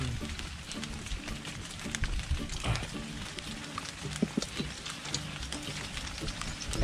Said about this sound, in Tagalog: Mamadali kasi umuulan.